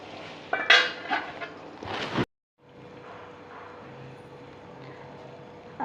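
A metal lid clanks onto a pot of freshly cooked matar paneer with a few sharp close clinks and scrapes, then a quiet kitchen hum follows.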